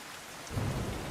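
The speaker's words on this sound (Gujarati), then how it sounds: "વ્યારાનગરમાં બે દિવસથી ધોધમાર વરસાદ વરસી રહ્યો છે" Heavy downpour pouring steadily in Vyara town, Tapi district, Gujarat, during days of torrential rain, with rumbling thunder; a broad, dense wash of rain noise that grows louder and fuller midway through the short stretch, with no voices.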